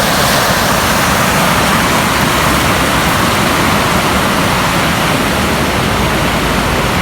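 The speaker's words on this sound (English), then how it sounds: "This is a nice little creek," A fast-moving creek on a hike rushes in a loud, unbroken wash of water noise, close by and steady without pause.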